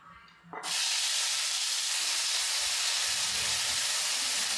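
Crushed onion and garlic drop into hot coconut oil with popped mustard seeds in an iron pan, setting off a sudden loud sizzle that becomes a steady, close, broad hiss.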